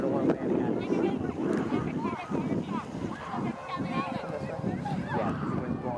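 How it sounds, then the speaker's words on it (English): Wind buffets the microphone in low rumbling gusts while people talk over it outdoors. "It is a little windy today."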